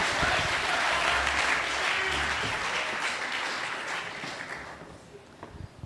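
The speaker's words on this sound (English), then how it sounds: "can we please give them a round of applause as they go to deliberate?" A crowd applauds warmly, dense clapping that holds steady, then gradually thins and fades out toward the end.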